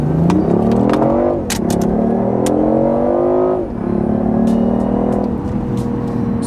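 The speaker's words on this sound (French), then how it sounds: "On va se permettre de faire une petite accélération pour commencer" A BMW i8 hybrid sports car accelerates in comfort mode, its engine note climbing in pitch through three rising sweeps with short dips between gear changes, loud and close with faint clicks.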